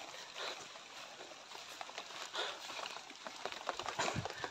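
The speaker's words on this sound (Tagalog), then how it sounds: "Umuulan ngayon." Light rain patters and drips steadily at a moderate distance, soft and continuous with irregular small splashes.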